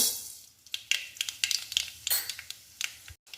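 Half a spoon of mustard seeds dropped into hot oil for a yam and cowpea erissery, crackling and popping in quick irregular bursts close up, then briefly stopping.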